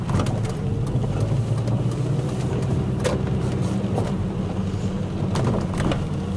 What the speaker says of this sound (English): We're at the gym now, just driving into the parking lot.